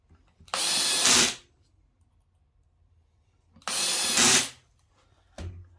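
A power drill with its clutch set very low drives into a wood block while making Shaker-style cabinet doors: two close, loud whirring bursts of about a second each, then a brief third burst.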